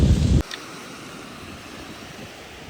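Sea waves wash against the shore on a fishing coast in a steady, broad rush, with a burst of wind buffeting the microphone at the start.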